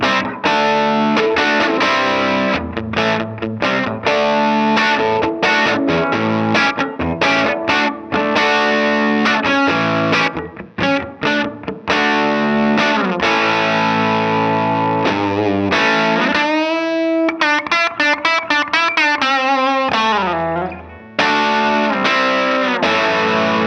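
Distorted electric guitar playing on the bridge pickup of a 1959 Gibson Les Paul Custom: bright, loud riffs with choppy chords and single notes, then a sustained bent passage with vibrato before chopping resumes, with no talking.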